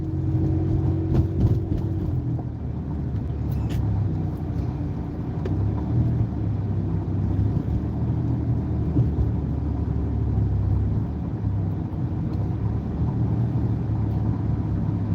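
A car cruises at about 35 mph on a town road, heard from inside as a steady, close low rumble of engine and road noise, unbroken for the whole stretch and with no talk.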